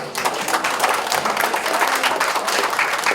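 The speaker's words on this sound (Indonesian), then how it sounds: "Tepuk tangan." Audience applause at a command center trial event in Bandung, dense continuous clapping from a crowd filling the whole clip, fairly loud and close.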